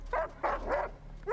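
A dog in a Last of Us episode barks and yips in short bursts, three or four quick near barks in a row, with soft voices faint underneath.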